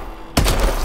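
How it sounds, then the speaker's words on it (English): A single heavy shot from the Atlas 20mm, a semi-automatic shoulder-fired sniper rifle in Call of Duty: Advanced Warfare, bursts loud and close after a quiet moment, then rings on with a booming tail. "Now the Atlas 20mm. This weapon is a shoulder fired sniper rifle."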